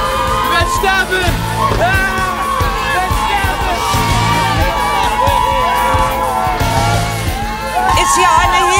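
A large crowd cheers and yells, with loud overlapping shouts and whoops that stay continuous and close throughout.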